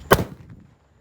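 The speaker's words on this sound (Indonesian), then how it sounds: "Mercon Gatot Kaca siap meluncur." A Gatot Kaca firecracker goes off with one sharp, loud bang, followed by a short crackling tail that fades within half a second into quiet.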